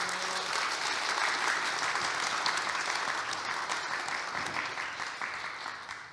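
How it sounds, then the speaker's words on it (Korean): A hall audience of new labor inspectors gives the minister a big round of applause, the dense clapping holding steady and then slowly tapering off toward the end. "다시 한번 장관님께 큰 박수 부탁드립니다."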